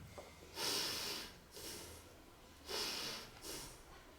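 Two slow, audible breaths close to the microphone, each a soft airy inhale followed by a longer exhale, otherwise quiet.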